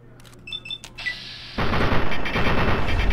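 Machine gun fire in the video game Fallout 3: a few short sharp shots and clicks, then from about halfway through a loud sustained burst of rapid automatic gunfire.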